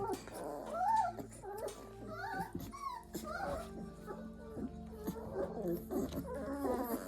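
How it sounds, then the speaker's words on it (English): A pile of yellow puppies whimpering, yipping and giving small growls, high squeaky cries coming in irregular bursts close by, with a person speaking softly at times. "we have a little puppy, a yellow puppy pile right here"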